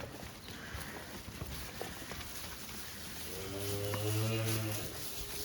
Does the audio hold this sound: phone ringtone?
no